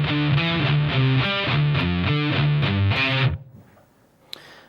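Distorted electric guitar in drop D tuning plays the first half of a riff, a driving chugging pattern of repeated palm-muted and ringing notes for about three seconds, then cuts off abruptly into quiet room noise with a small click near the end.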